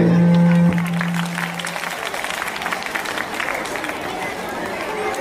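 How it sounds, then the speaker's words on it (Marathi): Students applaud at a school prize ceremony in a Nashik district competition, a sustained burst of many hands clapping that follows a short amplified tone and carries on steadily to the end, with crowd noise mixed in. "विद्यार्थ्यांनी टाळ्या वाजवायचे."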